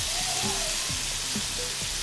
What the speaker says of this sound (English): we're just letting that chicken sizzle. The sauce is bubbling.